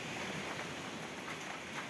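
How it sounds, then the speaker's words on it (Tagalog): Gusty typhoon wind roars steadily together with the wash of sea waves during Typhoon Kristine at a seaside resort, a dense, continuous rushing noise with no voices. "pabugso-bugso yung hangin at saka yung dagat"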